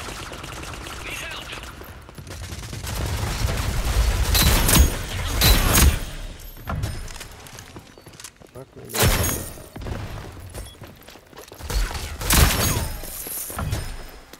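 Rapid bursts of video game gunfire from an in-game weapon in a free Steam shooter, Rogue Company, with several loud volleys separated by short pauses and someone talking over the action.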